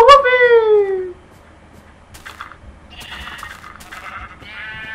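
A sheep bleats once, loud and close, in the video game Minecraft, followed by quieter scattered game sounds and brief chirps.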